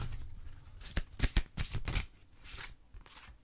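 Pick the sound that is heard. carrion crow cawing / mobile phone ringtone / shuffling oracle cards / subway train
shuffling oracle cards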